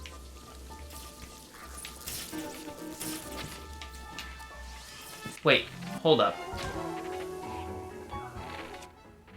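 Rain falling in a video game, a soft steady patter under speaking voices, with a couple of sharper impacts partway through.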